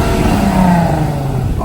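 A Nissan 370Z with a new loud exhaust revs at close range, its engine note rising and falling in a steady, continuous roar.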